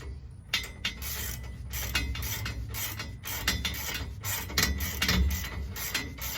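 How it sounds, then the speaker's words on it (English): A hand ratchet wrench clicks in quick repeated bursts while traction bars are installed on a vehicle, close-up and fairly quiet with steady mechanical rattling and no talk. "Old school way. Ratchet."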